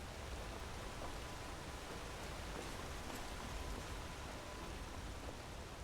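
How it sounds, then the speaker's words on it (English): Steady rainfall from the video game Skyrim, a faint, even wash of drops that holds without change from start to finish, with no other sounds over it. "It's kind of irritating that it's been raining so much."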